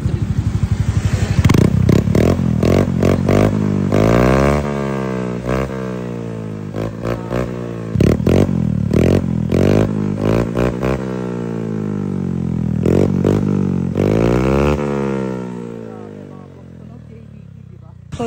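A Honda Beat V3 scooter with an aftermarket cabin exhaust pipe is revved repeatedly up close, loud rising and falling engine blips with rough exhaust burble between them, ending in a steady idle.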